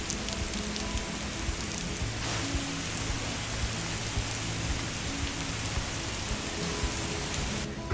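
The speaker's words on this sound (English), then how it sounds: "Started to rain." Steady summer rainstorm in Tokyo, a dense, even hiss of heavy rain falling on surfaces, loud and continuous throughout with no voices.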